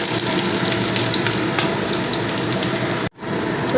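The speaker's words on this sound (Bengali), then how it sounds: "তো রসুনগুলো তেলের মধ্যে দিলাম" Chopped garlic hits hot oil in a pan, giving a loud, dense, continuous sizzle up close that runs without pause until a sudden brief dropout near the end, then picks up again.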